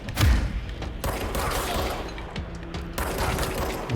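Explosions and crashing gunfire in the action video game Control on Xbox One X: a dense, continuous barrage of loud bursts and debris for several seconds, with a sharper blast near the start and another surge toward the end.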